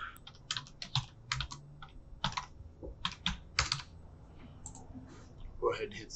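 Someone types a password on a computer keyboard, making quick irregular bursts of clicky keystrokes close to the microphone with short pauses between them and soft background noise.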